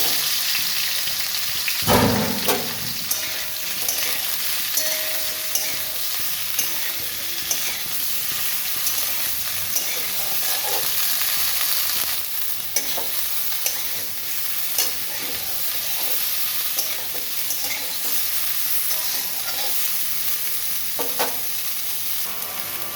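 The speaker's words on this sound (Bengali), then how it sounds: "ফুলকপি আলু ভেজে নেব ফুলকপি আলুটা ভেজে নেব" Cauliflower and potatoes frying in a pan give a steady close sizzle with occasional stirring scrapes, running unbroken with no talk.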